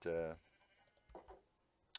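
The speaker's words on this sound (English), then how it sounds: "you can see the sheep are pushing me all over the place" A single loud, close sheep bleat from the Minecraft video game opens the moment, followed by quieter, brief sounds and a short sharp click near the end.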